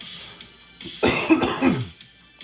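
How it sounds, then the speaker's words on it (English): A person coughs a few times up close, rough and throaty, preceded by a brief sniff and quiet breathing. "sorry in advance for the sounds of coughing, sniffling, sneezing"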